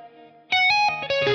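Electric guitar plays a riff of stacked fifths: a quiet clean-sounding chord rings first, then a loud, heavily distorted effected riff bursts in with choppy rhythmic chord stabs.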